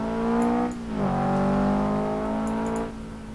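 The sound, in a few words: car engine revving in video game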